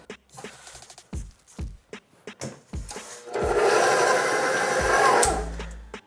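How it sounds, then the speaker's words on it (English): Stand mixer whirring at low speed 2 as it mixes cookie dough, a steady motor drone lasting a few seconds after some brief scraping and clattering. "You want this on a low speed, you don't want to burn out the motor. So we're going to 2."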